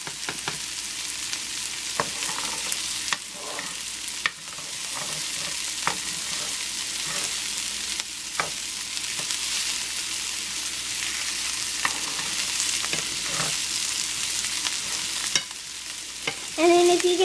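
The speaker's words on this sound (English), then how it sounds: "you're just going to want to make sure you stir it around until it gets all caramelized or gets brown looking" Chicken bog ingredients fry in a pot while being stirred, a steady close sizzle broken by intermittent spoon scrapes and knocks, with no speech.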